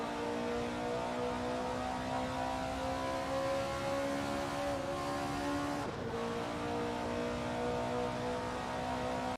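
In a racing simulator, a pack of 1960s Formula 3 race car engines drones steadily at high revs, with layered whining tones holding constant and no talking.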